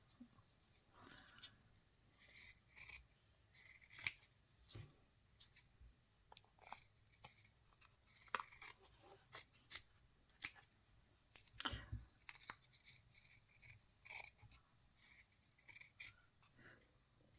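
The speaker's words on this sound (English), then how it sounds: "I cut out a piece of batting" Scissors snip through soft quilt batting in short, irregular cuts, fairly close and quiet, with pauses between strokes.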